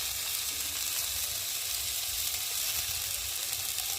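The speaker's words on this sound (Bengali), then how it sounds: "বন্ধুরা আলু বেগুনটা বেশ ভালোভাবে ভেজে নিয়েছি" Potatoes and eggplant frying in oil in a pan, a loud, steady, close sizzle that holds without a break.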